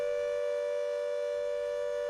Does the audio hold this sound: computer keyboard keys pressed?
no